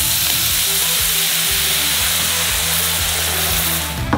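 Red wine is poured into vegetables frying in a pan and hisses in a loud, steady sizzle, with soft stirring knocks underneath that keep time throughout.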